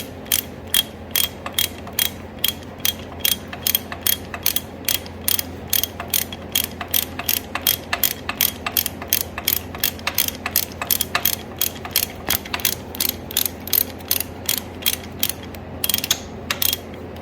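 A ratchet wrench with a 17 mm socket works on a 1971 Yamaha RT1B 360 motorcycle, giving a long run of rapid, evenly spaced clicks in quick bursts, close and crisp, with no talk.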